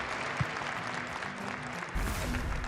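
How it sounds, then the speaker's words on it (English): A crowd claps steadily through a live Hearthstone esports broadcast at the 2017 HCT World Championship, the applause continuous and fairly distant before swelling louder and closer near the end. "One round of applause here for Tom60229, our first player to challenge"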